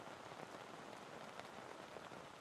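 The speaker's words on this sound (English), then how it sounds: "Is this rain going to stop?" Steady rain pours during an amateur rugby league match, a faint, even hiss of drops on surfaces that holds without a break and has no talk over it.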